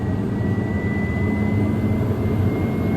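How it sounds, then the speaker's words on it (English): A Pilatus PC-12 NGX turboprop engine starting up: a steady, loud turbine roar with a thin high whine running through it, constant and close. "This may get a little loud as it's cranking up. Engines will start."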